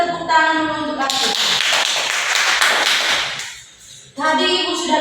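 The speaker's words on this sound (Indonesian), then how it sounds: "Terima kasih Atus, kita tepuk tangan dulu untuk Atus." Short burst of children clapping together in a primary classroom during a maths lesson, a brisk round of claps lasting a couple of seconds between a teacher's speech before and after.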